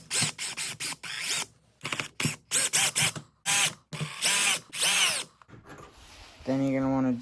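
A power drill unscrews screws on a Redcat Tornado nitro buggy in a run of short, whirring bursts with brief pauses between them, close and loud, ending in a longer drawn-out tone.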